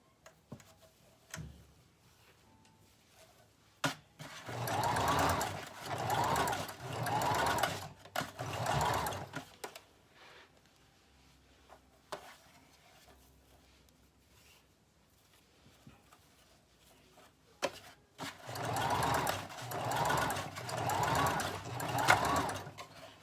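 A sewing machine set to stitch length 2 sews gathers on a ruffle dress, whirring in two long bursts with a quiet pause between them.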